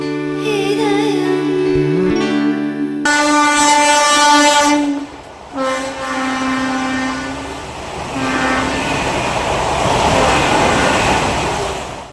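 A Vande Metro train built at the ICF plant in Perambur, Chennai, sounds a loud tonal horn in several long blasts, then rolls past with rising rumble and rail clatter, close and dominant, with no speech.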